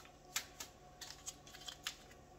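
Paper packets of sazon seasoning being torn open in a kitchen, giving a few faint, quick crinkling and ripping rustles in short bursts against a low background hum.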